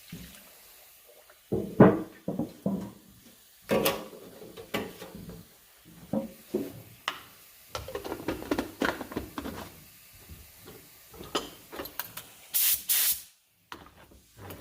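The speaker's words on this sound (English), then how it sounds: "I'm just going to put a little lacquer thinner in there and we'll see what the spray looks like" Short bursts of pressurized spraying as a Harbor Freight HVLP spray gun sprays lacquer thinner, hissing on and off in irregular blasts with brief pauses and clunks between them, fairly close.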